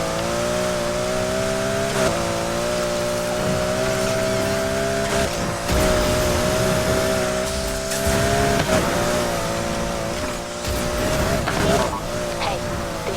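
A 2016 Aston Martin Vulcan engine roars in the racing game Need for Speed Heat, a loud sustained drone with gear shifts and tire squeal, while a voice talks over it.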